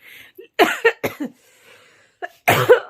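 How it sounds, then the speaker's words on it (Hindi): A few short, breathy coughs in quick succession, close and fairly soft, with a brief pause before a final cough. "खांसी सा हो रही है हल्की सा"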